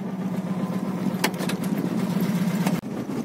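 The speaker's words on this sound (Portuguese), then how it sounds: "agora o Raí tá pilotando o foguete aí, o Fuscão, ó" Modified Volkswagen Beetle engine running while the car is driven, a steady low rumbling drone with a few sharp knocks, up close and without talk.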